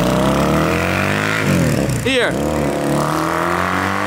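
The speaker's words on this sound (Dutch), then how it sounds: "Maar zijn motor klinkt wel echt lekker" Engine started after sitting unused for a long time, running loudly with rising and falling revs and a sharp blip near the middle, while someone speaks briefly over it.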